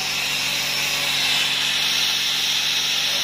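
A CNC router cuts through 6 mm plywood with a steady high whine and constant grinding hiss, unbroken and fairly loud for the few seconds heard.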